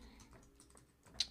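A URL being typed on a computer keyboard, a brief sequence of faint, scattered key clicks close by, ending on a slightly sharper tap.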